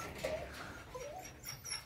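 Puppies for sale at a mountain home near Kosovo, one giving a few faint, high, thin whimpers in short rising cries against a quiet outdoor background.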